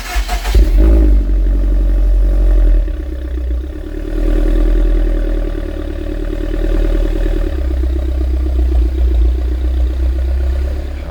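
A 1999 Mercedes SLK 230 Kompressor with a temporary duct-tape pipe repair drives along, its engine giving a loud, close, steady low drone that shifts slightly in tone partway through.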